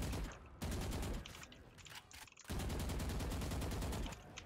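Automatic gunfire sprays in rapid, dense bursts from a shooter video game, with two long sustained volleys separated by a brief lull, loud and close with no talking.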